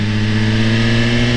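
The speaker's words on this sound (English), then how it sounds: "And then we got the Rari. This thing sounds so sexy. 458 Spider, man." A Ferrari 458 Spider engine holds a steady mid-pitched rev close by for a brief moment at the Tail of the Dragon mountain road.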